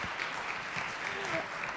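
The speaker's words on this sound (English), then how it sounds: "let's do another round of applause," Audience applause at an outdoor opera picnic show, a steady wash of clapping heard alone and moderately loud through the whole moment.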